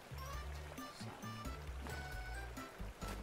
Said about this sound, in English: So instead of utilising another waterfall, I've just created one